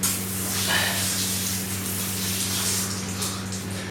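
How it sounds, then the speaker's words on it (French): A toilet bidet sprayer runs in a steady hiss of spraying water in a bathroom, continuous and fairly close, with a constant low hum beneath it and no talking. "Quand la douche ne marche pas, il reste le nettoie-cul des toilettes."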